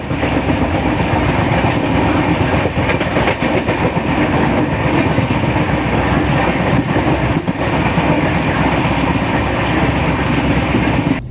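The Sealdah–New Delhi Rajdhani Express passenger train rumbles steadily along the rails after leaving Sealdah, with continuous wheel noise and rhythmic clatter from the track.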